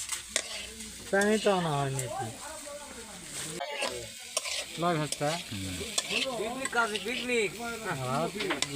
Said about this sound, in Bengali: এই যে ভাজা হয়ে যাচ্ছে মাছ।